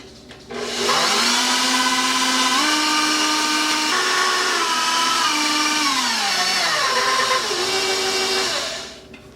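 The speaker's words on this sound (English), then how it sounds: "So now I'll mix this until it forms a stiff peak." An electric mixer whips confectioners' sugar and vanilla extract toward stiff peaks, a steady loud motor whine running continuously for about eight seconds, its pitch shifting in steps as the speed changes, then stopping.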